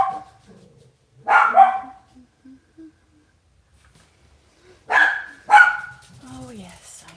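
A dog barks in two short bursts, close by and fairly loud, separated by quiet stretches with faint vocal sounds in between.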